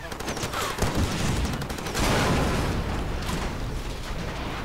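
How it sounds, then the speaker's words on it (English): In the Far Cry 2 video game, a rocket launcher fires with a loud burst followed by a booming, roaring blast and crackling debris, heavy and close, amid dense gunfire-like noise with faint voice underneath. "Let's give him the taste of the rocket launcher here"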